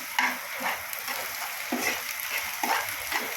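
Onion browning with curry leaves in a pan, a soft continuous sizzle broken by scraping stirs every second or so, moderately quiet and close, with no talking.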